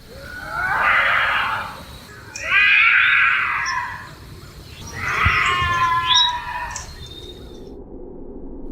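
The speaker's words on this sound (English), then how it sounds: "the bobcat is a wild cat indigenous to the Magnolia State" A wild bobcat screams at night, giving three drawn-out, harsh, wavering yowls spaced a second or two apart, moderately distant over a faint background hiss.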